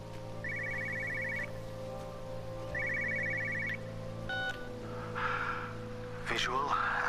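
Two bursts of a rapid electronic telephone trill ring out in the game Everybody's Gone To The Rapture, each lasting about a second, over a steady low hum with breathy, gasping vocal sounds afterward.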